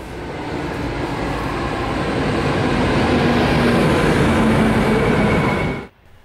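An RE 19 regional train running between Sonneberg and Bamberg roars past loudly with a steady, broad rumble and rushing noise that holds for several seconds, then cuts off abruptly near the end.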